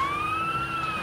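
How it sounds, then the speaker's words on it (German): A police car siren from the Lego Marvel Super Heroes video game wails steadily in a short, continuous tone with a faint engine hum beneath. "Nein, es ist eine Polizeiwagen."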